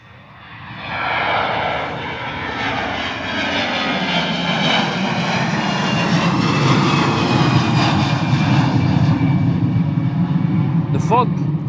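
An EasyJet Airbus A320 jet takes off at Bristol Airport in thick fog, its engine roar swelling from quiet to a loud, sustained rumble and whine that holds steady as the plane departs.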